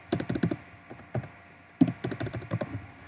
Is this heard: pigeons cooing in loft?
no